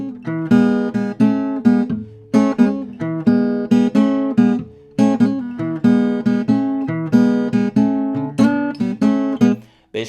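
Electric blues guitar riff in E built on double stops, punchy repeated two-note phrases in a bouncing rhythm with brief gaps, loud and close with no talking.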